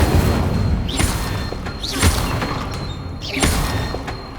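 In the video game Hogwarts Legacy, repeated Incendio fire spells are cast, each a whooshing burst with a deep boom and crackling thump, about three in quick rhythm, loud and close.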